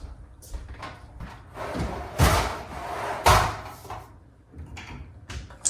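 Kitchen cabinet doors opening and closing beside a newly installed sliding drawer, with a few soft thumps and sliding swishes spread irregularly across the span, close and fairly quiet.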